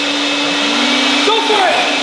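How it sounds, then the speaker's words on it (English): Steady motor whine of leaf blowers mounted on a kids' toy tractor and trailer in hay, running loud and continuous with a brief voice underneath near the end. "So now we have a ginormous leaf blower in a trailer."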